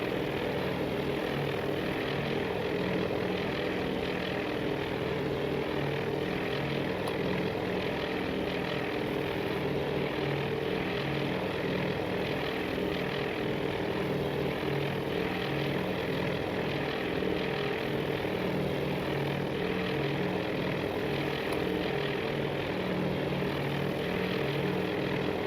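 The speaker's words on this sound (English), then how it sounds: "by 18 SBD-3 Dauntless dive bombers from Air Squadron VS-5." A steady, loud propeller-engine drone from SBD-3 Dauntless dive bombers of squadron VS-5 in a naval strategy video game, a dense unbroken roar holding constant throughout with no voices over it.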